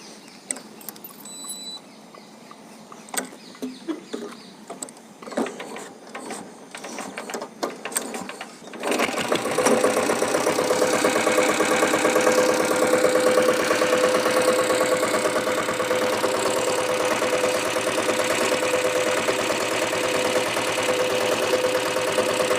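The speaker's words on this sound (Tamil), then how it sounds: "வாங்க இந்த வண்டியை ஸ்டார்ட் பண்ணி பார்க்கலாம் வாங்க" A restored company-built Royal Enfield Bullet Taurus diesel motorcycle is cranked with a few scattered clicks and knocks, then the engine catches and settles into a loud, steady, rapid diesel idle that runs on unbroken, close by.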